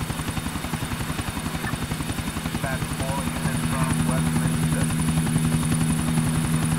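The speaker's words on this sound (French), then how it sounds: "Allez hop, on vole l'hélico." A helicopter flies in the game GTA IV with a steady, dense rotor chop and an engine drone that grows slightly louder. Its spoken dialogue runs over the rotor noise.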